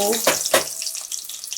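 Urad dal hits hot oil for a tempering and sizzles with two or three quick, crackling spurts. A bright, hissing fry settles into fainter spitting and popping, close by.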